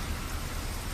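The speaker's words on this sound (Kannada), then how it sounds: "ಬೆಂಗಳೂರಿನ ಮಧ್ಯಭಾಗದಲ್ಲಿ ಸುರಿದ ಭಾರೀ ಮಳೆ ಸೃಷ್ಟಿಸಿರುವ ಆತಂಕ ಇದು" Heavy rain pouring down in central Bengaluru during a storm, a dense, steady hiss of rainfall filling the whole second with no voices.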